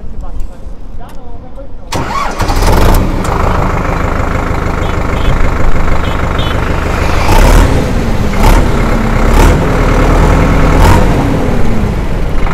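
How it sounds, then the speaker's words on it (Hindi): An ACE DI-6565 V2 four-cylinder tractor engine cranks and catches after a brief quiet start, then settles into a loud, steady diesel idle that runs throughout, with occasional sharp clicks and knocks over the drone. "तो चलिए ट्रैक्टर को स्टार्ट करके आपको इसका आवाज़ सुनाते हैं"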